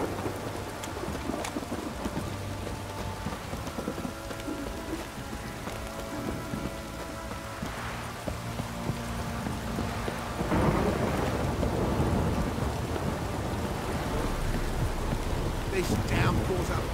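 Heavy rain pours steadily in the video game The Witcher 3, with low thunder rumbling beneath and a louder surge of downpour about two thirds through; faint voices occasionally under the storm.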